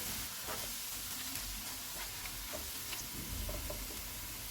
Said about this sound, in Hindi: प्याज फ्राई हो गए, इनमें चॉप की हुई अदरक और लहसुन डालेंगे। इनको 1 मिनट तक भूनेंगे